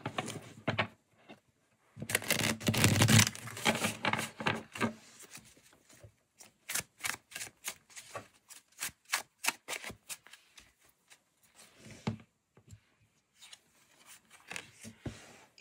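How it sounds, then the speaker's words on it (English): Tarot cards being riffle shuffled, a quick burst of fluttering riffles followed by a run of crisp, rhythmic card snaps and softer rustling, close and alone without speech. "Do another riffle shuffle."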